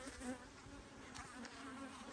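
Honeybees buzz steadily around an open hive as honey frames are pulled, making a faint, continuous insect drone with no voices over it.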